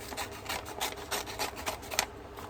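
Protective paper wrap for glasses is trimmed for a journal, a close, soft scratchy rasping that repeats in a quick irregular rhythm of short strokes, heard alone.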